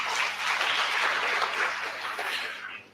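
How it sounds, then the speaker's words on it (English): An audience at a national HIV and AIDS scientific conference applauds, a dense, steady wash of clapping that holds evenly for a few seconds before fading at the end. "Can we clap for ourselves?"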